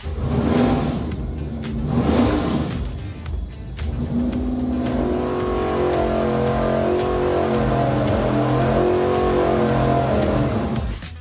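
Race engine on a dyno during a solenoid duty cycle test, running loud and close with a sustained harmonic roar, two surging revs at the start, then a steady held drone that fades at the end.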